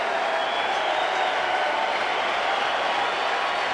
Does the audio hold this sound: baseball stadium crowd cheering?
yes